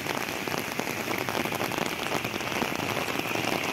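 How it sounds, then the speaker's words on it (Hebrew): Heavy rain falls outside, a dense close patter of drops striking a surface as a continuous loud hiss with no voices. "גשם יורד בחוץ"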